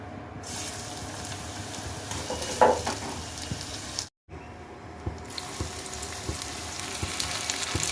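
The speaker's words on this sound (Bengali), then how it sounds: "সব সবজি টবজি যেগুলো লাগবে সব ভেজে নিচ্ছি এখন এখানে" Vegetables for a vegetarian fried rice fry in a pan, giving a steady broadband sizzle with a few sharper spits and clinks, briefly cut by a short silence midway, with no talking.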